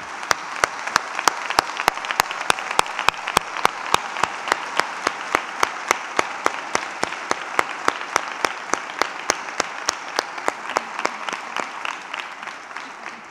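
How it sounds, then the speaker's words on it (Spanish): An audience at a town festival proclamation event claps in a steady, rhythmic unison beat, loud and continuous, with no voices over it. "por eso nuestro aplauso es para vosotros"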